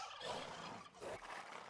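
Turkey-like gobbling of farm chickens under harassment in the Age of Empires 2 video game, a short burst of rough clucks and squawks, fairly loud and continuous with a brief dip partway.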